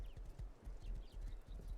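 Horse hooves clip-clop steadily and faintly in a video game, with a low rumbling bed underneath and no talk.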